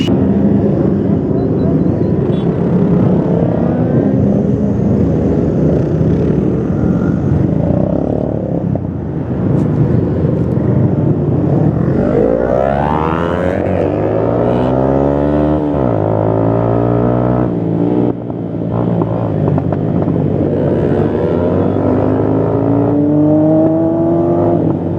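A Honda CBR motorcycle engine revving loudly at a bike gathering, pitch climbing and falling through repeated revs over a constant roar of other engines, with voices mixed in.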